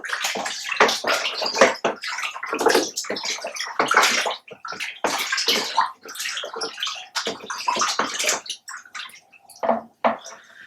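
Elderberry wine gets a vigorous stir, with close watery sloshing and splashing in irregular surges over roughly ten seconds.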